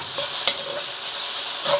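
Chow mein noodles stir frying in a hot wok on a domestic hob, a steady close sizzle with faint scrapes and stirring clinks.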